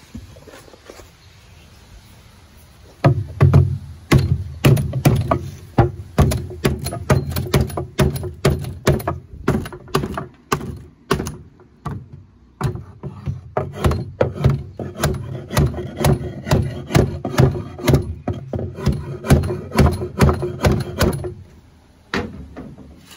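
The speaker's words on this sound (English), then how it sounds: "Let's grab a hammer and just pop it up." A hammer works at a wooden part of a pinball cabinet during restoration, making a long series of sharp knocks and creaking wooden taps at close range, irregular in rhythm, with no talking.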